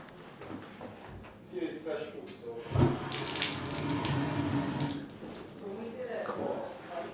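A hot water tap runs in an apartment with a gas water heater, giving a steady hiss and splash with a sudden thump as the heater fires up, while people talk throughout.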